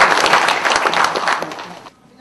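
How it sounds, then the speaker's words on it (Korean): A room of attendees at the annual general meeting of a local newspaper association claps loudly and densely, then the applause cuts off abruptly near the end and leaves near silence. "참석하신 여러분들의 큰 박수와 함께 시작하도록 하겠습니다"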